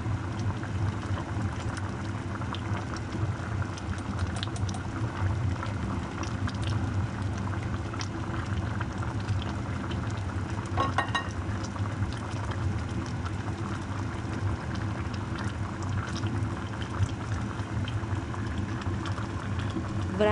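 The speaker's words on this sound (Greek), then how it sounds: "Βράζω το γλυκό μου για 10 λεπτά" A pot of Greek fig spoon sweet with lemon juice simmers on the stove, producing a continuous low bubbling and hiss with scattered soft pops, steady and fairly close.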